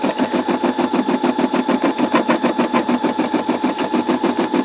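A Brother SE625 embroidery machine stitches in a fast, steady mechanical rhythm, rapid repeated clatter close by, with no voices.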